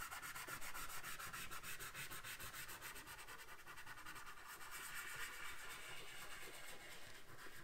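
Chalk pastel rubbed across paper while blending a sky, a steady close dry scraping hiss with a fast repeating stroke rhythm, continuing alone with no voices.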